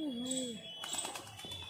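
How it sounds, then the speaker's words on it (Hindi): Soft, low cooing from a blue Hyderabadi pigeon, a short warbling call near the start, then faint rustling and other bird sounds, in a graveyard. "हैदराबादी मक्सी, वो घुटक रहा है"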